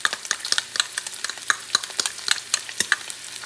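Tomato paste and garlic being stirred in a hot pan for a red camel kabsa, a steady run of close scraping strokes over a faint sizzle, with no talking.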